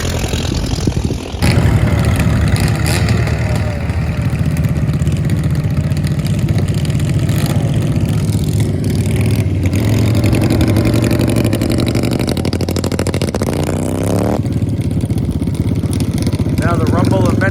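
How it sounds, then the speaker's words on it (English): A crowd of flat track club motorcycles rumbles while warming up on a dirt oval, a steady loud mass of idling and revving engines that fills the clip, with a voice speaking over the din. "Now the rumble of many motorcycles as the Flat Track Club gets out on the track to warm up"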